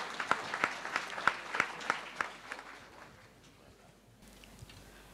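Audience applause greets the managing director of Kenya Safari Lodges as keynote speaker at a University of Nairobi event, with about ten sharp, fairly distant bursts of clapping over two seconds before it thins out into room noise.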